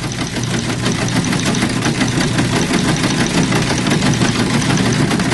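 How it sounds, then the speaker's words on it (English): A Cadillac left with its engine running sits idling, a loud, steady low rumble with a faint knocking pulse that holds evenly throughout, close by and with no voices. "Someone left the engine running and lights on."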